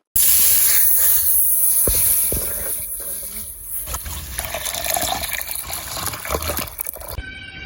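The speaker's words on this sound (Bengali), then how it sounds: "এবার আমি কড়াইয়ের মধ্যে দুধটা গরম করতে দিয়ে দিচ্ছি" Milk goes into a hot wok for heating, opening with a loud steady hiss that eases into softer bubbling and sizzling, with a few sharp clinks of utensils.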